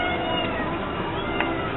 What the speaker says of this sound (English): That's probably why they're meowing.